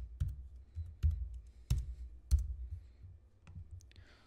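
Sparse keyboard clicks while renaming a track in Avid Media Composer editing software, about five separate low thumping key presses spread over a few seconds, close and fairly quiet with no voices.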